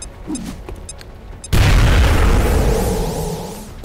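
A thrown frag grenade in XCOM: Enemy Unknown (2012) detonates with a single loud, booming blast partway through, after a quieter stretch of game sounds, then rumbles and slowly decays.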